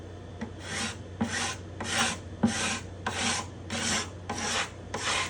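A hand scraper rasps along the spruce top of a guitar at its bindings and purflings in about eight even, bright strokes roughly every two-thirds of a second, close and clear, with a low steady hum underneath and no talk.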